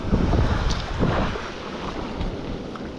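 Ocean waves surge and wash up the shore at Manasota Key beach, a steady near rush of surf with wind buffeting the microphone, swelling early then settling into a continuous wash.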